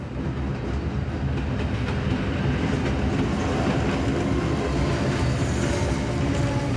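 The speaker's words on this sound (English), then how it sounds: "Those rocks there would have stopped the train." A train rolling along in the horror video game Tormented Souls 2, giving a continuous loud rumbling roar with faint rhythmic clatter of wheels on rails throughout.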